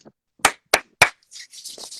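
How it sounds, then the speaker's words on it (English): Three sharp, close hand claps in quick succession, followed by softer rustling noises, heard late at night indoors. "Let me not start clapping like that."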